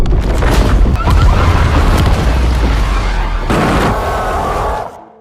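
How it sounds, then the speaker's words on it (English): Blasting to blow up a mountain for excavation makes a loud, heavy boom that rolls into a sustained rumble and fades out at the end. "To speed up the excavation process, the workers agreed to blow up the mountain."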